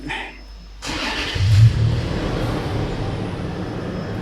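A car engine with a throttle fault cranks and catches after a manual throttle relearn, then settles into a steady, close, moderately loud idle with a slight rise just after starting.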